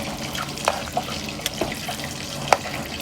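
Water is poured into a pot on a stove while kattipongali is being made, giving a steady liquid splash and trickle with scattered small drips and clinks, close and moderately loud.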